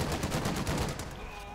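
A rapid machine gun burst from an MG crew in the video game Company of Heroes 2 rattles off in quick, evenly spaced shots, moderately loud, then trails off.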